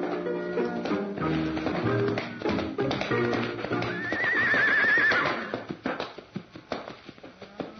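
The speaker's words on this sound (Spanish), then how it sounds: "Ella espoleó a su caballo para ir al encuentro de Santos Luzardo" A rider spurs a horse forward: a loud, drawn-out whinny rises over a musical backdrop, followed by a run of sharp hoof clops that fade toward the end.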